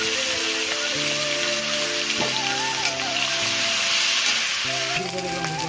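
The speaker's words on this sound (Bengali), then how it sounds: "পেঁয়াজের চিংড়ি মাছটা আমি একসাথেই ভেজে নেবো" Prawns and onions frying together in a pan for a bottle-gourd prawn dish, a loud, dense, continuous sizzle close up with occasional stirring, no talk.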